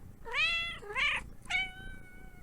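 A house cat meows three times in close succession, clear and near, each call rising then falling, with quiet background between.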